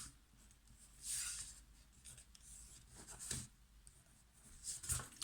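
A pen scratches paper in short strokes while marking spots on an A4 sheet for a small accordion album, faint and close, with brief pauses between the marks.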